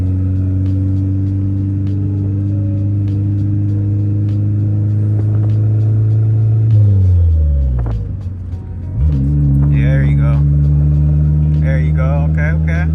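A Dodge SRT4 engine idles with a deep steady rumble, dips and bogs briefly as the clutch is let out a little quick, then recovers and pulls away, loud and close, with voices talking over it.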